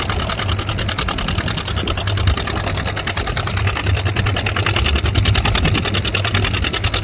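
An antique John Deere 620 tractor pulling a four-bottom plow at a plow day keeps up a steady, rapid, even chugging beat, loud and close with no pauses.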